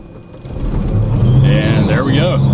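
A Cirrus aircraft piston engine being hot-started, cranking and then catching into a steady, loud running drone close by, with a voice talking over it.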